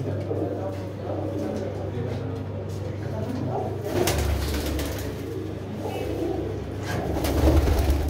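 Pigeons coo repeatedly, soft throaty calls rising and falling close by, while people talk over them and a low engine hum runs underneath.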